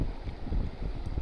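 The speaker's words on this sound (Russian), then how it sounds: "Погода сегодня не пойми какая, ветрище." Strong wind blows outdoors during ice fishing, buffeting the microphone with a loud, low, gusty rumble that lasts the whole short moment.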